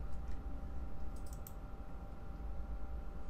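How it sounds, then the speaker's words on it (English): Light clicks of fingers typing a search on a computer keyboard, a quick burst of close keystrokes over faint background hum. "Wait, let me type that."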